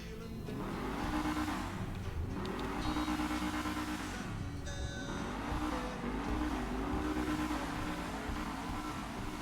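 A Dewbauchee Seven 70 sports car engine in GTA Online revs and shifts continuously, rising and falling in pitch through the gears, loud and close, with a brief tire squeal.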